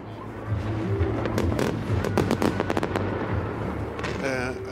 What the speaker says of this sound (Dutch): op dit moment is het met name vuurwerk wat we horen